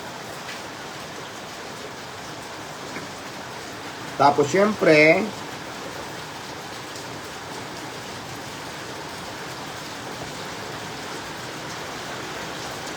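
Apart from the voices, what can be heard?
heavy rain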